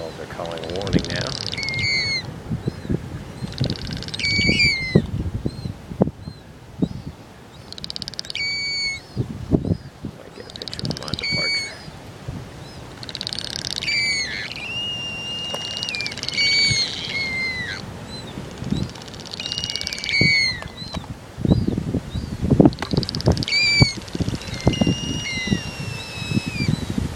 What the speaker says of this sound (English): Seagulls are calling a warning now.